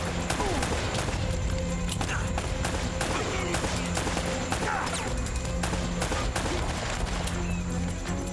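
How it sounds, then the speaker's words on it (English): Rapid video game gunfire in Uncharted: Drake's Fortune, dense bursts of shots and crashes packed continuously, loud and busy with voices talking over the action. "Are you firing behind us?"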